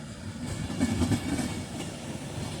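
A train passes at Crewe station on the West Coast Main Line, a soft rumble of wheels and rail clatter that swells briefly in the middle and then eases, heard from a distance with no talking.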